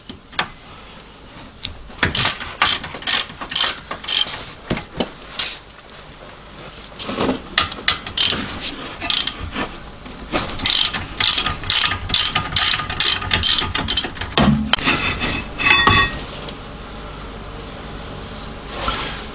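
Ratchet clicking in repeated bursts while undoing the 40mm caliper carrier bolts at the rear brake of a Hyundai Santa Fe, close and loud, with short pauses and clanks of tools between runs.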